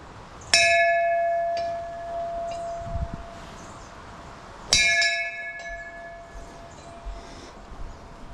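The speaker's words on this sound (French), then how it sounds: "On va faire sonner la cloche." A metal temple bell at a Hindu temple on Mauritius is struck twice, each a bright, ringing clang with a long shimmering decay, the second strike several seconds after the first, close by.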